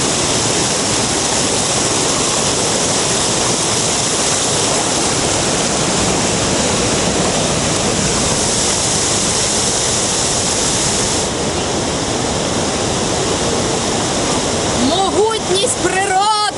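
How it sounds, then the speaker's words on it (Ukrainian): Heavy, steady roar of a roadside waterfall swollen by two days of strong rain in a canyon in Turkey, a dense continuous rush of falling water that stays loud and unbroken throughout. "я думаю, що цей водоспад виник саме після цих дощів, котрі йшли останні 2 дні доволі сильні"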